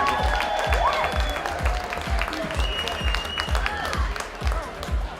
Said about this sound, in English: A nice round of applause for number 0, Nick Horberg.